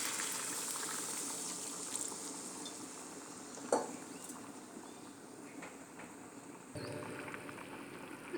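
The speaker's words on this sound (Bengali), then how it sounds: "জলটা আমার ফুটে এসছে" Fried tilapia fish in spice masala with added water simmers at a steady boil, a continuous soft bubbling and sizzling hiss close by, with no talk.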